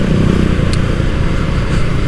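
Yamaha MX King 150 underbone motorcycle with an overbored engine riding along, a steady close engine drone with road and wind rumble throughout, no voices.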